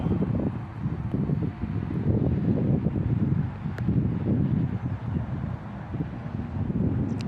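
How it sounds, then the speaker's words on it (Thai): Light wind blowing steadily across an outdoor field while a Thai Chula kite is flown in bright sun, a continuous low rushing and buffeting against the microphone with no voices. "ลมเบานะครับลมเบา"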